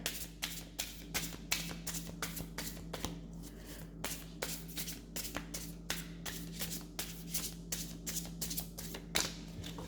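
A deck of tarot cards is shuffled by hand in a quiet room, a brisk rhythmic series of close riffling and flicking bursts repeating throughout.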